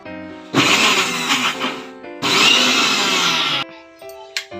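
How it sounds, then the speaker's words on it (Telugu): A kitchen mixer grinder blending onions, tomato and spices into a paste: two loud whirring bursts of motor noise, each lasting over a second, separated by a brief pause, followed by quieter clatter and a short final whir. "అలాగే ఆనియన్స్, ఇవన్నీ ఇప్పుడు మనం మిక్సీ పట్టేసుకోవాలండి"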